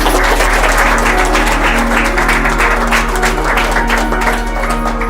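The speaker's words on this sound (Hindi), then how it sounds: "सब लोग ताली बजाएंगे।" Guests at a Christian wedding ceremony clap together over a loud, steady electrical hum and faint background music. The clapping is scattered and fairly soft, running continuously through the moment.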